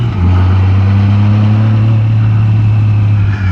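A car engine runs steady and close while the clutch is worked, giving a loud, even hum with a low droning tone. No one speaks.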